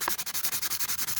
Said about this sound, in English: I find it quite hard to see what I'm doing with the Dremel because it moves.